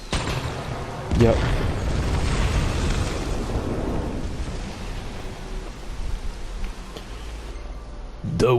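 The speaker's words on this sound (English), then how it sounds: "That's just to trigger an explosion." A barrel explosion in the Final Fantasy XV Platinum Demo erupts as a loud broadband boom, followed by a long rumbling, crackling decay with a second burst near the end.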